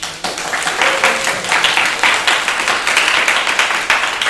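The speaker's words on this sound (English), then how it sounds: "Give Johnny that round of applause." Classroom applause for a student at a computer networks lecture, a short burst of dense, steady clapping from a room of students that stays fairly loud throughout with no voices over it.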